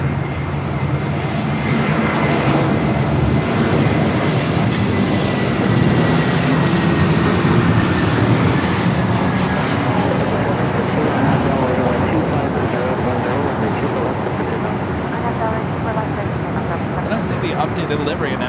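Emirates Airbus A380 in the newer livery at Los Angeles LAX, a broad, steady jet roar holding loud throughout with a faint high whine, voices talking underneath.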